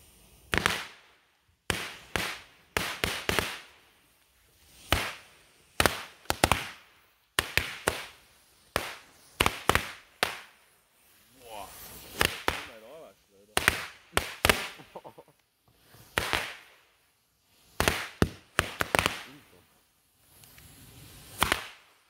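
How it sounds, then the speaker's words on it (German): A long run of sharp bangs from a Broekhoff Centipede firecracker string popping in irregular bursts, loud and close, with short pauses and some crackling between volleys. "Mal schauen, ob das lecker Knaller sind."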